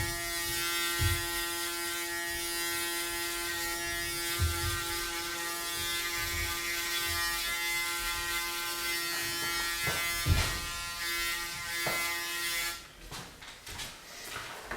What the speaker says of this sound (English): So why I use 4 different types of clippers in this part.